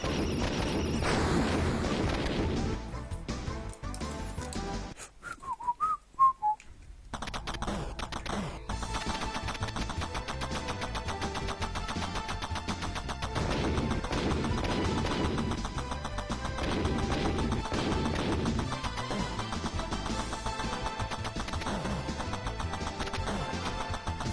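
Bombs explode in the shoot-'em-up Super Raiden on PC Engine CD-ROM, with rumbling blasts and crashes mixed into continuous electronic game music, a brief drop to near quiet midway.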